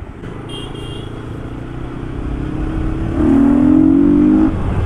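A modified Yamaha MT-15 motorcycle fitted with an aftermarket air filter rides along, its engine droning steadily and then swelling louder as the throttle opens near the end, heard close with wind rumble and no talk.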